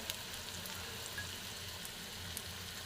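Fish roe frying in a pan, seasoned with turmeric, salt and cumin powder, gives a steady, soft sizzle and crackle that stays even throughout, with no voices.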